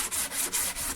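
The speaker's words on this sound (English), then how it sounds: "a little bit of sanding." Close, rhythmic hand sanding of an old camphor wood chest: about five quick back-and-forth scrapes in a steady rhythm.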